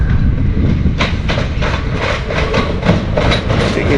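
A train on a seaside rail line between Peacehaven and Seaford rumbles past with a loud, steady roar, with faint rhythmic clickety-clack of wheels over the track and no voices.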